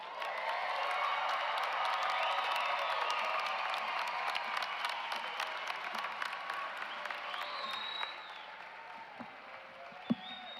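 Audience at a nursing commencement ceremony applauding the graduates: a dense, steady wave of clapping that holds strong, then thins after about eight seconds into scattered claps with a few sharp, close hand strikes.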